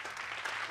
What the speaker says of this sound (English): clapping for ladies.